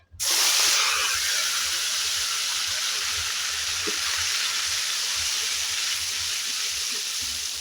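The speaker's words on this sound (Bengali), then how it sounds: "পেঁয়াজ ভালো করে একটু ভেজে নেব মশলাটা ভালো করে ভেজে নিলাম" Onion, ginger and tomato paste hits hot oil with a sudden loud sizzle that settles into a steady, bright frying hiss, close and unbroken, with no talking.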